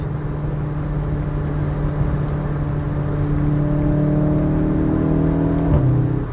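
A VW Golf 7.5 R with a 228 kW engine and DSG gearbox revving as it drops through the gears, a loud steady whir climbing in pitch, then a quick shift blip and drop near the end.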